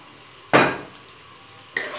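Mutton keema frying in oil in a pan, heard as two separate bursts of sizzling and stirring, each about a second apart, close and moderately loud over a quiet background.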